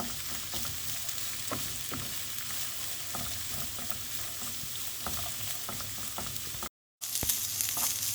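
Thinly sliced onions sauté lightly in a little oil, giving a steady close crackle and sizzle with occasional spatula stirs and a brief dropout near the end.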